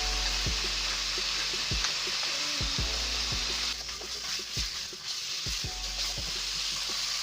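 Meat sizzles steadily in a hot pan for a quick stir fry, a continuous bright frying hiss with occasional sharper pops and crackles throughout, no voices.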